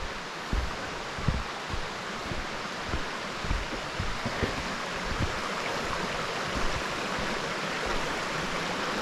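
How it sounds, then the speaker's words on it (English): A mountain stream rushes at a hiking-trail water crossing in the White Mountains, a steady broadband flow of water with a few soft low thumps close by and no voices. "it sounds as if we're coming up on our first water crossing."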